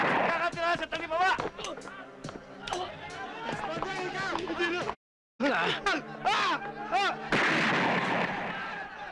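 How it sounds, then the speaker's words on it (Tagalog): Gunfire crackles in a Filipino action movie scene, sharp bursts mixed with excited shouting voices and music, broken by a brief silent gap before the noisy confusion resumes. "Putok yun ah!"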